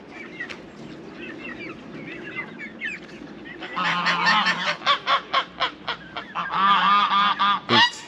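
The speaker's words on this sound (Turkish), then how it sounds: "3 artı 1 şeklinde kazımız var." Geese in a hobby poultry coop in Kastamonu Taşköprü call out in a quick run of loud, rhythmic honks, building from soft chatter into a close, repeated chorus.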